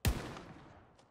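A single rifle shot in the Hell Let Loose infantry combat game, one sharp loud crack with a short rumbling echo fading out, no talk.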